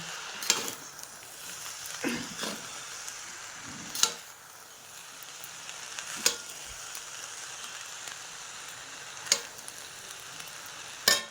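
Rice with sugar and ghee is fried and stirred in a pan, a soft steady sizzle with occasional sharp spoon clicks against the pan every couple of seconds, quiet and close.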